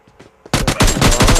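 Gunfire in PUBG Mobile Lite on the Golden Woods map: loud, close rapid bursts of automatic shots erupt abruptly after a brief quiet stretch and continue in repeated volleys.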